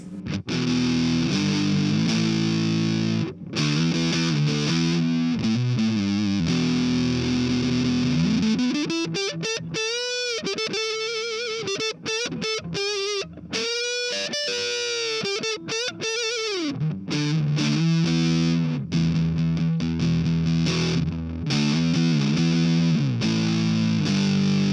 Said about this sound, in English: So I have the fuzz here because it's a bigger, badder distortion.